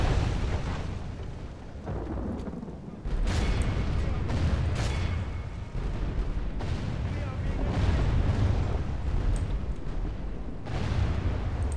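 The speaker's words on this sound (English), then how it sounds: "Why is the bombardment stopped a little bit?" Artillery bombardment in the Total War: Call of Warhammer game rumbles continuously as a dense wash of overlapping booms and distant blasts during an Empire siege, loud and sustained with little pause.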